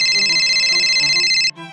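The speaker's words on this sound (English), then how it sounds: "it just means that I want my phone to sound like a phone" A phone ringtone with a classic telephone-like tone rings loud and steady for about a second and a half, then cuts off abruptly into a softer tail.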